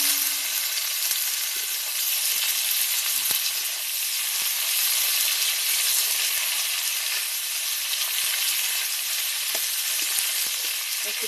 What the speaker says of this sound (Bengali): এই যে ডিম ভাজার তেল আছে এর মধ্যে আমি ফুলকপিটা ভেজে নেব